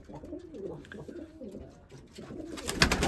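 Pigeons in a coop coo softly and repeatedly at close range, their warbling calls overlapping, followed by a burst of rustling and fluttering at the end.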